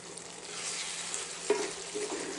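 Bacon jam simmering over reduced heat in a pan, a soft, even hiss and faint bubbling with one small pop midway.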